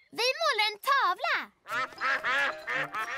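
Cartoon ducks quacking in a Swedish children's animated farm scene, with a voice speaking first and then a run of loud, nasal, close quacks in quick bursts.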